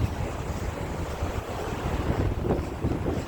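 Strong wind blows along an outdoor bike and scooter lane in Abu Dhabi, roaring steadily and fairly loudly across the microphone with no one speaking.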